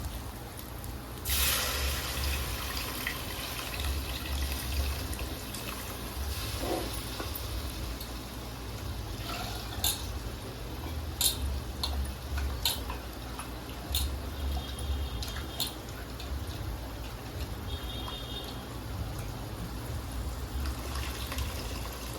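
Tamarind water being poured into a pot of fish curry (chepala pulusu), a steady close trickle and splash of liquid running on for a long stretch, with a few sharp clinks and taps of utensils over it.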